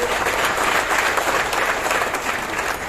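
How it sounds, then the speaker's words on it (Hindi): Loud, sustained audience applause at a wellness-company training session in Ghatkopar West, Mumbai, a thick even wash of clapping throughout. "मैं चाहूंगा उनके लिए जोरदार तालियां मार दीजिए"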